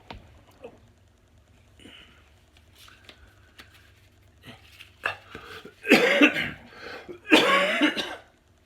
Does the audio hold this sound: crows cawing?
no